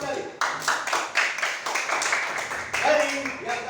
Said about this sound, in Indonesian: Ya, tepuk tangan dulu untuk semua kalian.